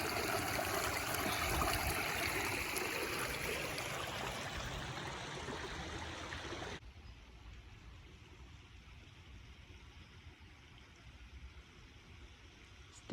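A stream on a nature trail at Springton Manor Farm rushes in a steady broadband wash that suddenly drops to a quieter, softer flow midway through, with no talking.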